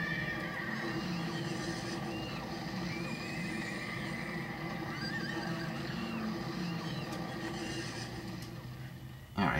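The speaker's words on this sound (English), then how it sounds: "Horses." Horse neighing and whinnying from the city-building game SimCity 4, a repeated animal call over a dense, steady bed of game ambience and clip-clop, loud throughout with no talk.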